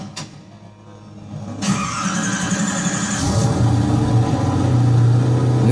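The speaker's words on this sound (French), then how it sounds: "Démarrage à froid." A full-carbon Koenigsegg One:1 supercar cold-starts: after a short click, the starter and engine catch with a sharp bark, then settle into a loud, deep, rumbling high idle that grows steadily.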